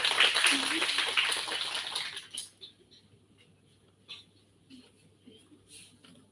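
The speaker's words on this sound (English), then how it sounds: "A big round of applause for sir." Audience applause in a university induction hall, a dense clapping burst that fades out after about two seconds, leaving quiet room noise with a few faint knocks.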